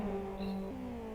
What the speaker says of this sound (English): Safar has overtaken TJ for P2